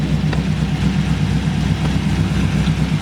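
A cammed Chevrolet Camaro SS V8 idles steadily up close, a continuous low rumble with a choppy, uneven lope and no voices.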